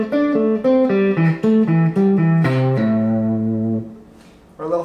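A minor pentatonic lick on electric guitar mixes legato pull-offs with hybrid picking: a quick run of clear, close notes steps downward and ends on a held low note that rings out, followed by a short restart.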